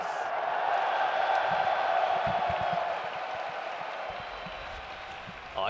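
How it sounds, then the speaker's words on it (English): Crowd noise from the audience at an Evo 2023 Tekken 7 winners semifinal, a broad sustained roar of cheering that swells early and then eases slightly, with a few faint voices underneath. "If you in the crowd, make some noise!"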